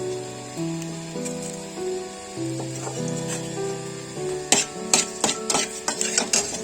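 Two dried red chillies sizzle in a small amount of hot oil, a steady frying hiss under a faint electrical hum, then a burst of sharp crackling spits toward the end.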